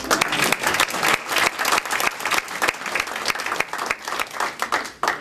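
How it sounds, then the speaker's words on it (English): A crowd at a hospital donation announcement applauds steadily, dense clapping filling the room at full strength throughout with no talk over it. "Round of applause."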